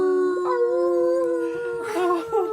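A computer-generated dog howl for Gears the dog, a long sustained wavering cry with rising and falling pitch, loud and close, set in a tabletop fantasy game scene.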